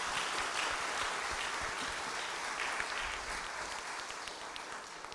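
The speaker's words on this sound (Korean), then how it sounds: "우리 감사의 박수 올려드리겠습니다" A church congregation claps together at a 30th-anniversary missionary commissioning service, steady, moderately distant applause that slowly fades.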